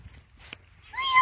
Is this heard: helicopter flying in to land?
no